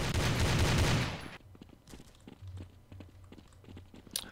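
Bursts of AK rifle fire sound in the multiplayer shooter Kuboom, a loud dense volley at the start followed by quieter scattered shots and thuds, with no talking.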